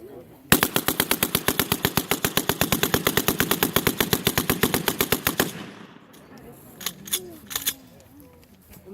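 An M1919A4 machine gun fires one sustained burst of rapid, evenly spaced loud shots, nearly forty in a row, then stops and leaves scattered fainter clicks and handling noises.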